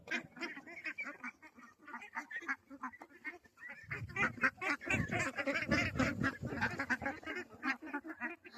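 Ducks at a duck farm call while eating, a series of honking quacks, sparse at first and then denser, louder and overlapping in the second half, close by with no talk.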